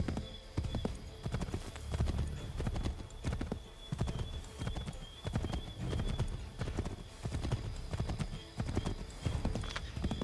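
Horse hooves in the video game Assassin's Creed 3, a steady galloping clip-clop close up with rhythmic thuds and a brief neigh, with faint talk underneath.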